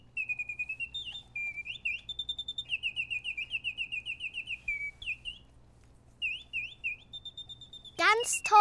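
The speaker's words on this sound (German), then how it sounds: "Das ist eine Nachtigall." A wind-up music box toy nightingale sings a clear, bright run of rapid warbled chirps and trills, pausing briefly and resuming, close and alone until a voice begins speaking at the end.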